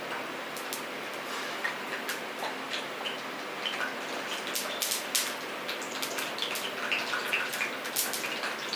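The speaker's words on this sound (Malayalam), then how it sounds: "ഇതിൽ നമ്മൾ കഴുകിയെടുക്കുമ്പോൾ ചെറിയ വെള്ളത്തിൻ്റെ അംശം ഉള്ളതുകൊണ്ട് ഇതുപോലെ ടപ്പട്ടപ്പയെന്നൊക്കെ ചെറിയ ഒച്ചയൊക്കെ കിട്ടും" Onions sautéing in hot oil for an eggplant chutney, spitting and crackling where traces of rinse water remain, with dense irregular pops and ticks over a steady sizzle, close and fairly quiet.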